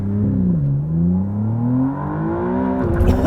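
A 2024 McLaren Artura launches with launch control, its engine note climbing loud and close as it pulls hard, with a sharp rise near the end.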